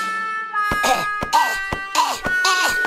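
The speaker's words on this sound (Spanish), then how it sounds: "¡Tose muchísimo!" A cartoonish voice coughing repeatedly in harsh bursts over a steady musical tone, about five coughs in quick succession.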